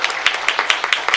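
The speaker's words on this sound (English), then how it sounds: "let's give her a little round of applause" People at a school district governing board meeting give a short, light round of applause, a handful of spaced claps heard up close.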